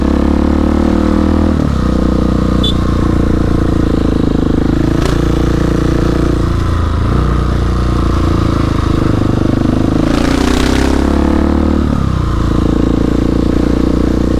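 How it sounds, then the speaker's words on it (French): Husqvarna 701 motorcycle engine running steadily nearby throughout, a continuous loud low drone with a few small shifts in pitch and a brief burst of higher noise partway through. "ce qui me dérange c'est le bruit de la moto"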